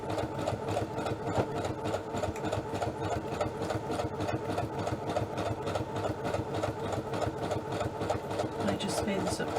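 A sewing machine chain stitches a card stock pocket, running as a steady, rapid, close mechanical whir without pause from start to finish.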